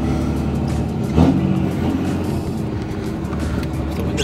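A large diesel truck engine idles steadily with a low, throbbing rumble, heard from inside the truck, close and loud, with a brief louder surge early on.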